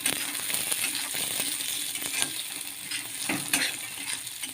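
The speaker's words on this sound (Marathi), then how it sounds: "आता याच्यामध्ये तुरीचे दाणे घालायचे आहेत" Pigeon peas are stirred with a utensil in hot oil with green chilies, for a gram-leaf bhaji. Oil sizzles softly throughout while a spoon scrapes and clinks against the pan at close range at irregular moments.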